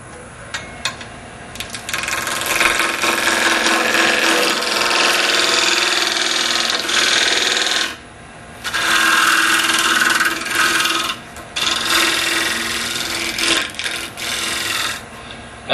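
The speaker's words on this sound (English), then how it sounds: "Now this is when I can make this cut using it as a shear scraping tool." Ash bowl being shaped on a wood lathe with a shear scraping cut: a loud, continuous rasping scrape under the machine hum, dropping out briefly near 8 and 11 seconds before resuming.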